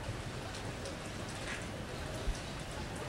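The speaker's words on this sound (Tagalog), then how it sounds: "nananatiling makulimlim at pabugso-bugso pa rin ang ulan na nararanasan dito sa Cagayan" Gusty rain falls over flooded rice fields in Cagayan, a soft, even hiss of drops with one brief louder knock, faint and continuous throughout.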